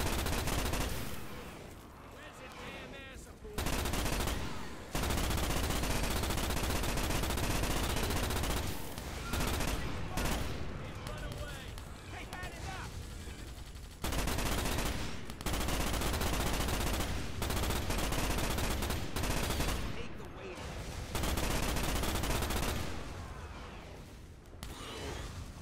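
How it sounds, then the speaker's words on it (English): Heavy gunfire in the Starship Troopers PC game, with dense sustained bursts of rapid blasts broken by brief pauses, loud and close throughout. "they're not just firing those blasts up in the air, they're firing over at our troops!"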